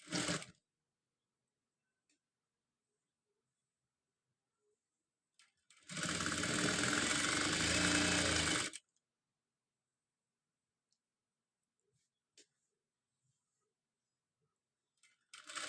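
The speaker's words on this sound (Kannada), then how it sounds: "ಟರ್ನ್ ಮಾಡಿಕೊಂಡು ಇನ್ನೂ ಇದ್ರ ಮೇಲೆ ನೀಟಾಗಿ ಹೊಲಿಗೆ ಹಾಕೋಬೇಕು" A sewing machine stitches a blouse sleeve in one close, steady run of rapid mechanical whirring lasting about three seconds, framed by brief bursts at the start and end and quiet clicks in between, with no speech.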